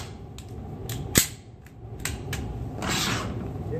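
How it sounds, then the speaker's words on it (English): Shots from an X5 pistol fitted with a Romeo 1 sight, a few sharp cracks spaced apart with one loud report standing out, heard fairly close against a steady background hiss. "I'm just going to shoot a few rounds here"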